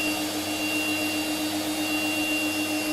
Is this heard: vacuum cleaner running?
yes